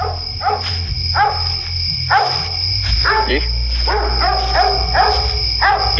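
A dog barks repeatedly in short bursts against a steady background hum, with a faint voice mixed in at times, at night in the Philippines.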